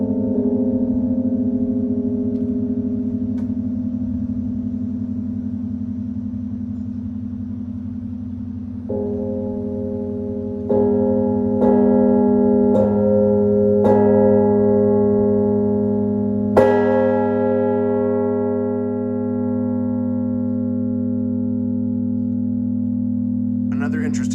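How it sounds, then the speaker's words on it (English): Carillon bells ring in sustained, overlapping tones, clappers worked by direct mechanical linkage; a steady low hum lies beneath as new strikes enter one after another, layering bright ringing partials near and loud. "The bells, once again, don't move, rather the clappers, which are connected by a direct mechanical linkage."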